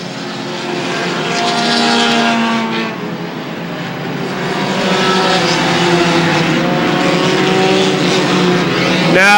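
Dirt modified race cars roar around the track at Airborne Speedway in Plattsburgh, New York, a loud, continuous engine howl that swells as the pack passes close and then eases.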